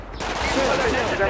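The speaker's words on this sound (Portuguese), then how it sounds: "A gente chama atenção e eles dão um tiro, ó." Gunfire in the GTA 5 video game during a roleplay favela rescue, sounding as a dense rattle of shots under speech, loud and continuous through the short stretch.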